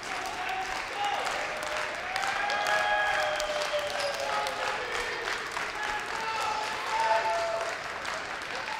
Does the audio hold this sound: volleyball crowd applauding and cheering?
yes